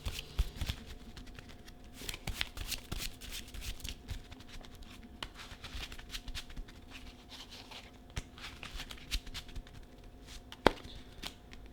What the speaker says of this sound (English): So now we shuffle a bit.